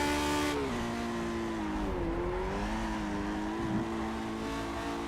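A Lotus 49 race car in Project Cars, driven without assists: a loud, continuous engine drone that rises and dips with gear changes, plus a brief tire squeal through a corner.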